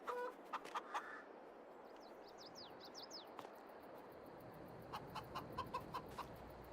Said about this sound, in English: yeah, we have a rooster, too.